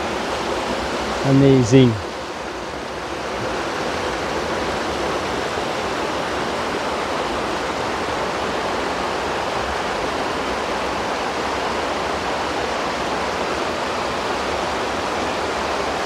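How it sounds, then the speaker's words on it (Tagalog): Continuous rushing water where two rivers meet, an even broadband wash that holds steady throughout, with a brief exclaimed word near the start. "Two rivers in one place."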